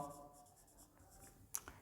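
Chalk or marker scratching across a board during a Class 7 math lesson on the circumference of a circle, faint short strokes with a couple of sharper taps near the end, in a quiet room.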